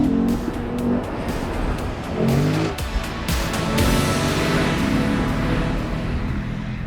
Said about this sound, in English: You gotta love that V8 engine. Listen to that thing rev.